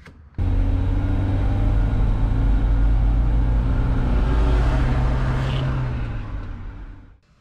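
A rebuilt rescue truck driving off on its first shakedown drive after the build, a loud, steady engine rumble that fades out toward the end as it pulls away.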